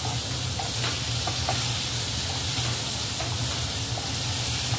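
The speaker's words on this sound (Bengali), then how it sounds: "এরপরে শালগমগুলো দিয়ে দিলাম। দুটোই একসঙ্গে ভাজা ভাজা হবে।" Potatoes and turnips fry together in hot oil in a pan, giving a continuous loud sizzle and hiss with occasional stirring scrapes, close and steady without speech.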